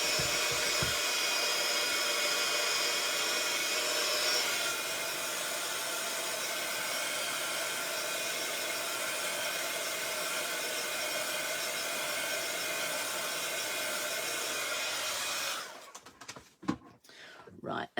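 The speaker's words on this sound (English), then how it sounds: "I'm going to bring my heat gun and just give that a whiz" A heat gun blows hot air over craft ink with a loud, steady hiss and roar that fills most of the stretch. It cuts off near the end, leaving clatter and handling noises.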